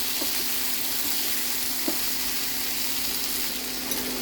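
Broccoli and carrot fry in a pan beside beef, with a loud, continuous sizzle throughout and a couple of light knocks as the vegetables are mixed.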